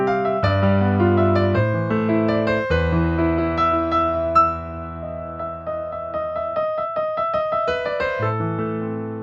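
Solo piano plays a flowing passage of Für Elise with the sustain pedal, notes ringing into each other in rolling left-hand figures and melodic right-hand lines, close and clear with no voices.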